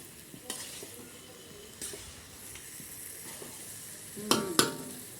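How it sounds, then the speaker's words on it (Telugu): Curry fries in a pan while being stirred, a soft continuous sizzle broken by scraping stirs, with louder clattering scrapes near the end. Quiet and close. "ఫ్రై అయిపోయింది."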